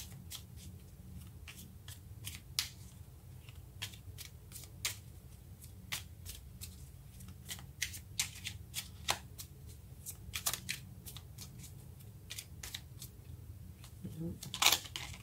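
Tarot cards are shuffled by hand, a dense run of quick crisp card flicks and riffles close to the microphone with a louder burst near the end, over a low background hum.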